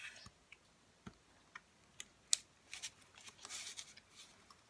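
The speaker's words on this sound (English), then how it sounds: "And pull the release tape off." Release tape peels off a window box card after strong tape is burnished down, with faint scattered clicks and small handling ticks before a brief close, papery peeling rasp near the end, all quiet, with no talk.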